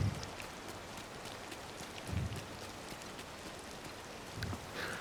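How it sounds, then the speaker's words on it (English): Soft, steady rainfall in the video game Disney Dreamlight Valley, a faint continuous patter with scattered light drops and a few low swells, heard alone. "while we're waiting for it to stop raining"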